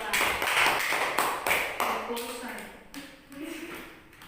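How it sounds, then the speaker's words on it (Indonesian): Applause for a student group in a classroom, a short burst of hand claps and taps heard near, with voices talking through and after it. "Beri aplaus untuk kelompok 2"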